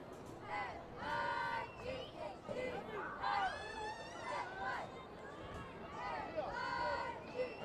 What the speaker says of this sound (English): There you hear the Juarez-Lincoln cheerleaders.